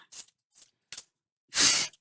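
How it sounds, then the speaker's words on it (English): Tarot cards being shuffled, three short soft riffles spaced apart, then one longer, louder burst of shuffling, close with no talking. "I will quit shuffling like a madman then"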